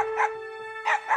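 Two dogs bark in short yappy bursts, a few quick barks close by, with a steady tone humming underneath.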